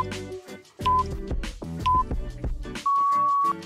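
Three electronic beeps, two short and one longer, sound over upbeat background music, the last beep held for under a second.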